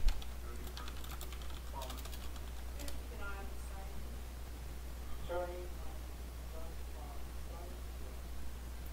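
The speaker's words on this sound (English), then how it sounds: "I'll type it out." Keys on a computer keyboard clatter in quick bursts and scattered clicks during a livestream, under and between intermittent speech, over a constant low electrical hum.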